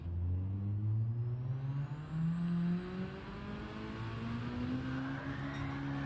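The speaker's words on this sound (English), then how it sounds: "That turbo kicked in and spun it right around." A turbocharged car in a Gran Turismo 7 time trial revs hard, its engine note climbing and dropping through gear changes, loud and continuous with no one speaking.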